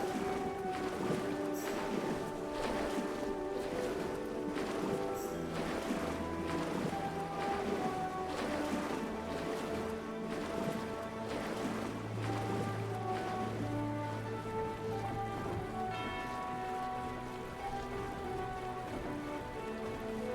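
A water wheel turns in a river in Myst IV Revelation, giving a continuous splashing, rushing wash with repeated sloshing surges, fairly loud and steady throughout, with faint tonal hums beneath.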